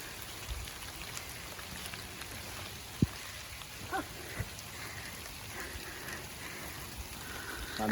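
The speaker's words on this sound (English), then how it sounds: "So now it's raining." Rain falling outdoors during fencing work on a ranch with longhorn cattle, a steady patter on surfaces with a few sharp knocks and faint distant rumbles mixed in.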